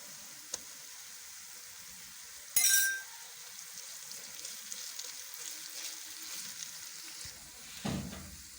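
Ginger garlic paste fries with onions in a pan, a faint low sizzle with a sharp clink and a brief louder splash of hissing, then stirring scrapes.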